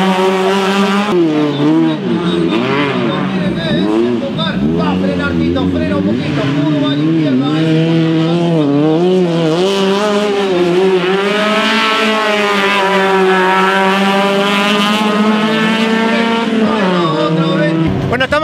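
Rally cars at the Rally Entrerriano super prime circuit in Costa Surubí, Goya, with loud engines revving and wailing through rising and falling gear changes, tires squealing, while someone talks over the noise.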